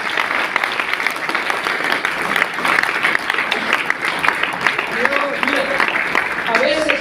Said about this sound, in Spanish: De una ofrenda de palmas al Señor Jesucristo.